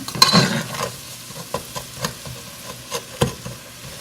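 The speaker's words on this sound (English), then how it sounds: "We'll sweeten up the onions just a little bit as they're sweating." Onions sweat with a little brown sugar in a pan, giving a soft sizzle under repeated spoon scrapes and taps as they are stirred.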